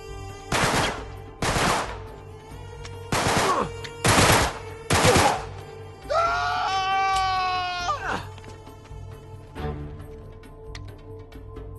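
Sniper gunfire in Uncharted 3: five loud, sharp shots spaced about a second apart, then a high ringing game sound and a fainter later shot.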